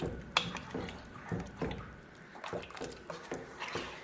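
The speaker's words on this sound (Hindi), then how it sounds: "अब पानी शामिल करेंगे। 3 से 4 गिलास पानी है।" Water pours and splashes into a cooking pot holding turnips and chicken, with uneven drips and sloshes, fairly quiet and close, no talking.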